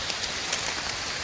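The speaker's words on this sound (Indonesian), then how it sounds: "Hujan guys." Rain falling on Mount Salak at Cimelati, a steady hiss with scattered soft drop taps, moderate and continuous for a brief moment without voices.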